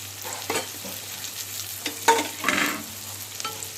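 Bitter gourd pieces stuffed with roasted gram dal, with turmeric added, frying over low flame in a pan, a quiet sizzle broken by a few soft stirring scrapes and clinks, no voices.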